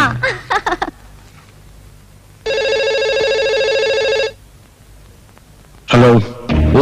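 A telephone rings in a Kannada comedy film scene, one steady electronic ring burst lasting about two seconds, loud and clear, with brief speech just before and a voice answering right after.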